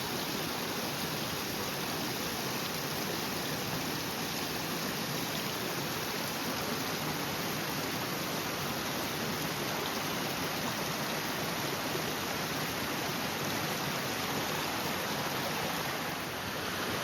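A mountain stream at a water source on the Pacific Crest Trail rushes in a loud, constant, dense wash of flowing water that stays unchanged throughout, with no voices.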